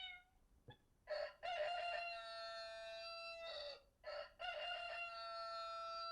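A rooster crowing sound effect plays back from an AnyBook reader pen sticker, with two long, loud cock-a-doodle-doo calls in a row, preceded by a faint click and short cluck.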